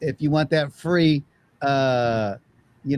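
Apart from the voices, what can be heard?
No everyday noises stand out.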